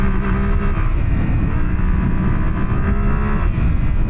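Adventure motorcycle engine revving hard while riding through sand, a steady loud drone with a wavering pitch and no talk.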